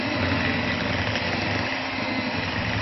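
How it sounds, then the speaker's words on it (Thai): A steady, close electric mixer whirs without a break, beating fresh butter until it loosens and blends before icing sugar is added for a blueberry cheesecake. The motor drones at an even pitch throughout. "โดยช่วงแรกนะคะเราจะตีเนยสดนะคะให้แตกตัวดีเกาะดีเข้ากันดีก่อนค่ะ"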